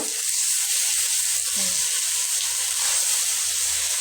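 Charred tomatoes for tomato bharta sit in a hot pan, giving a continuous close, dense sizzle with faint low knocks from stirring, steady throughout and free of talk.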